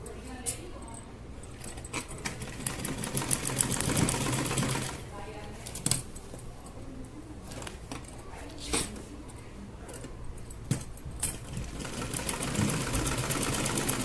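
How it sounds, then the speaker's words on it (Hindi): A sewing machine stitches a cotton roti basket cover in irregular bursts, the close mechanical whir starting and stopping alongside handling noises and a voice talking throughout. "अब यहाँ से हम इसकी सिलाई मार देंगे"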